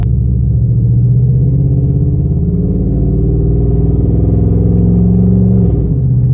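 A car's engine rumbles loudly and steadily as it accelerates, the pitch rising gradually through a gear before dropping slightly near the end, heard from inside the cabin with no talk.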